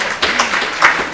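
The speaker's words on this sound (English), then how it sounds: "I didn't expect a clap" A lecture audience at a health talk on pain and the opioid crisis gives a few brief, scattered claps. The claps are sparse and fairly close, over a quiet room.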